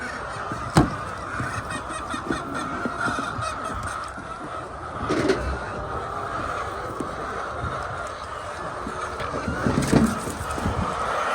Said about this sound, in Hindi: ये देखें, ये वो देखें कितनी मुर्गियाँ जो वो अंदर बैठी हुई हैं।